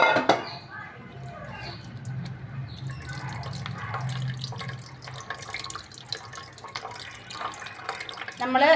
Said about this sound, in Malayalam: ഇത് നമുക്കൊരു അരിപ്പയിലോട്ട് വെച്ചിട്ട് അരിച്ചെടുക്കാവേ